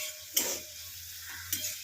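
Onions fry in a pan with steady sizzling, broken by two sharp scraping bursts as they are stirred, close and fairly quiet with no talk.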